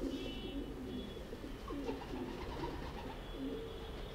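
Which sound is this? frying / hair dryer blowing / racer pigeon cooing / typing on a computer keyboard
racer pigeon cooing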